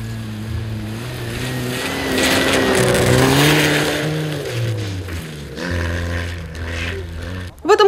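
Rally cars race on a snowy winter road, with engines roaring and revving loudly as several pass close by. Pitch climbs and falls with each car, and a sharp burst comes right at the end.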